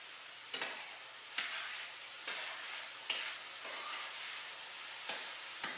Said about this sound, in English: In the meantime, I'm going to heat up this butter.